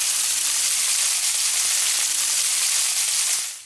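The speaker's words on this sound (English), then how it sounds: "The oil is hot. I'm gonna go ahead and put in the Wagyu." Thin strips of Wagyu beef sear in a hot oiled skillet, giving a loud, steady, close sizzle of frying that holds evenly throughout and then tapers off at the very end.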